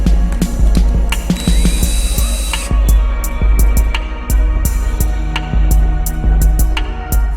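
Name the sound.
ratchet tightening Harley-Davidson primary case bolts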